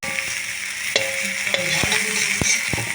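Cauliflower pieces frying in a pan give a steady, close sizzle, broken by sharp clicks and knocks of a utensil stirring them, with no voices.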